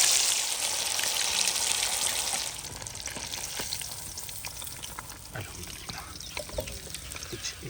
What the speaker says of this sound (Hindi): तो अभी हम फ्राई कर रहे हैं।